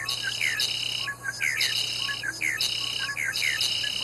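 Birds chirp at a nest, with repeated short descending tweets recurring in a steady rhythm over a constant buzzing background hum, moderately loud and close, with no voices.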